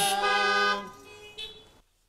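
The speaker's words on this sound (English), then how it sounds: "you honk when it's time for an amen" Car horns honk together at an outdoor drive-in Mass, a loud overlapping chorus of held tones that fades away, followed by one shorter toot before silence.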